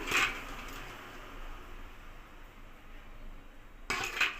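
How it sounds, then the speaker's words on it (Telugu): Oil is added to khaja puri dough in a bowl, with sharp utensil clinks against the bowl at the start and end and a soft, steady mixing hiss between them, with no voices. "ఇప్పుడు కొంచెం ఆయిల్ వేస్తున్నాను"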